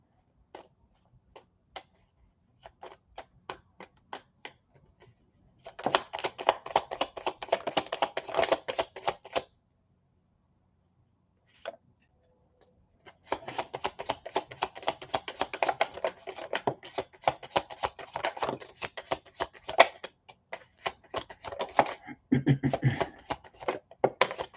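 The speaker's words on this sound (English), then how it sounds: "So let's get started shuffling the cards." Tarot cards shuffled by hand in bursts of rapid, crisp riffling and flicking, close and fairly loud, separated by short quiet pauses, with no talking.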